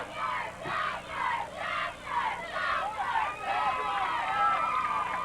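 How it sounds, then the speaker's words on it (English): The crowd at a 1985 Edwards County versus Oblong high school football game cheers and chants in rhythmic surges at a moderate distance, with voices rising and falling together. "The crowd really getting into tonight's game."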